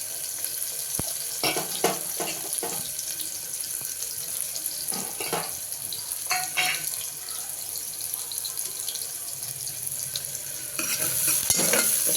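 Onions frying lightly in a hot pan for a moong dal and cabbage curry, a constant hiss with scattered clicks and scrapes from stirring, growing a little louder toward the end.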